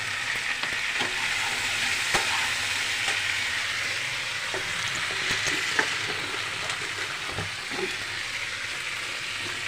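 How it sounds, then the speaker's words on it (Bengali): Small-cut chopped tomatoes fry in a pan with a loud, continuous sizzle, while a spoon scrapes and stirs in irregular clicks throughout. "টমেটো, ছোটো ছোটো করে কেটে নিয়েছি, একটু নাড়াচাড়া করে নিলাম"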